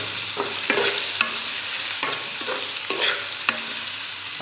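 Smoked pork stir-fried in oil, a continuous close sizzle broken by repeated scraping stirs of a spatula against the pan at an uneven rhythm, with no talking.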